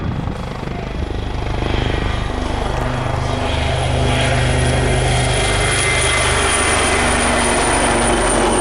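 Wildcat helicopters at the RIAT 2024 air display pass overhead with a steady, loud rotor and turbine drone that builds and holds throughout, with no talk.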